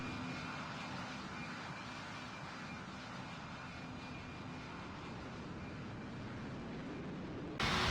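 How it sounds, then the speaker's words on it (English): An airliner taking off at an airport: a steady, broad roaring engine rush held at a constant level throughout, heard from a spotting distance with no talk. "That was an actually good takeoff."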